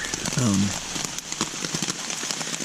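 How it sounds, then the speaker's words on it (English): Steady heavy rain hisses and patters close by on a Tennessee hiking trail, with a brief low voice-like sound near the start under the downpour. "As you can hear, it's pouring down the rain out"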